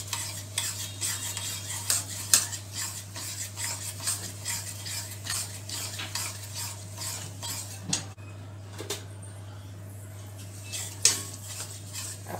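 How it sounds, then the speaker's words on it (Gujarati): Jaggery, about 150 g, melting in 100 to 125 g of hot ghee in a pan over a low flame while being stirred. A utensil scrapes and clicks repeatedly against the pan above a steady hum, with no speech. "ઘી થોડું ગરમ થાય એટલે આપણે એમાં 150 ગ્રામ જેટલો ગોળ છે તે ઉમેરીશું."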